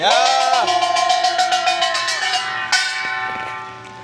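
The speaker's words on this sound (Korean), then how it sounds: "꽹과리와 힘찬 징소리로 맞이하도록 하겠습니다" Loud metallic clanging of Korean percussion, a rapid ringing kkwaenggwari small gong with a sustained, humming large jing gong beneath, continuous for several seconds, at an outdoor political rally.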